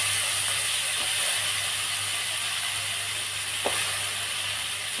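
Eggplant pieces frying in oil in a pan, giving a steady, even sizzle and hiss with a few faint clicks, close by and with no voices.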